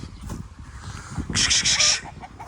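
Chickens clucking and squawking nearby, with a burst of louder, agitated calls in the middle of the clip.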